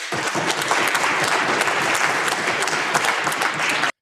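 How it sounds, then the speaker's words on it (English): Legislators in a parliamentary House chamber break into dense, sustained applause that fills the room, loud and steady for about four seconds, then stops abruptly. "They're clapping like seals"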